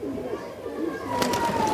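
A pigeon of the Sambhal kaldum breed from a fancier's loft in Urai coos softly as it is released, brief soft calls over a low background hum.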